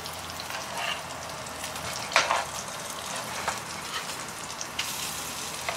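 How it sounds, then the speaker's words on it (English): A salmon fillet in a frying pan gives off a soft, steady sizzle that is fairly faint. A brief louder burst of spitting comes as the fish is flipped, then lighter crackles follow. "So now I am going to flip the salmon."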